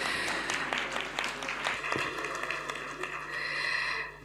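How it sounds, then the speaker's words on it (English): Applause from the audience at the 11th meeting of the Africa Initiative, sustained and dense, many hands clapping from a moderate distance, tapering off toward the end with a faint murmur beneath. "Another warm round of applause."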